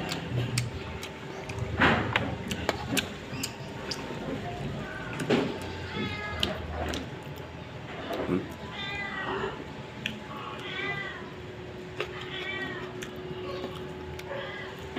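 A cat meows repeatedly in short, insistent cries amid faint clinks and household clatter.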